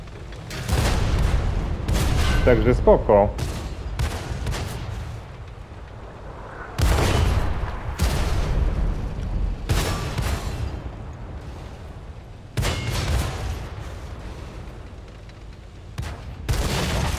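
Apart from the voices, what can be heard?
Object 703 II double-barrel tank cannon firing in video game World of Tanks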